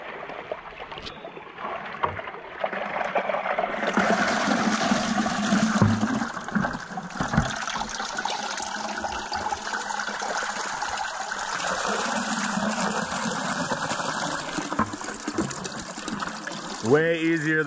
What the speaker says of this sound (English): I'll have Cameron just dump the other bucket right here full of water